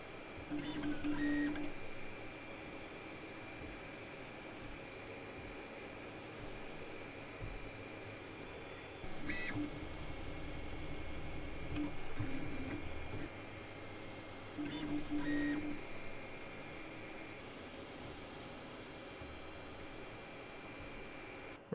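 An Artillery Genius 3D printer prints steadily with a constant fan-like whir, low-level and continuous, while stepper motors add brief buzzing bursts every few seconds.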